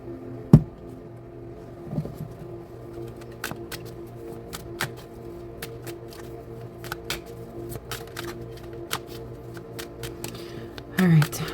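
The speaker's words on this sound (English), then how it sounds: "As I was shuffling" Playing cards shuffled in a few brief riffles and soft flicks, with sharp taps scattered throughout, beneath a steady low room hum.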